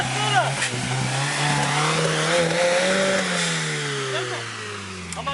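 A car engine revs hard at full throttle, its whine climbing steadily and loudly close by, while voices call out in the background.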